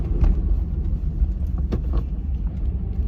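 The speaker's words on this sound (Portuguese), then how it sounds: "tinha um caminhão saindo ali" A truck pulls away outdoors with a low, steady engine rumble and road noise that stays at a moderate distance throughout.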